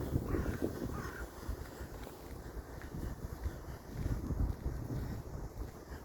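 Cold winter wind in the Dutch countryside rumbles faintly and unevenly against the microphone in soft low gusts, with no talking.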